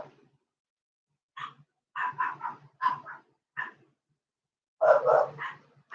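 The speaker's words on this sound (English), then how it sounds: "Excuse my dogs for barking" Dogs barking indoors during a home rosary sale, a scattered series of fairly close, sharp barks in short clusters with brief gaps, louder near the end.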